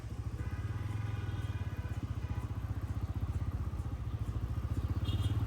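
A Bajaj Pulsar N160 motorcycle rides through busy city traffic near Gulistan in Dhaka, its engine a steady, close, rhythmic low throb that holds throughout.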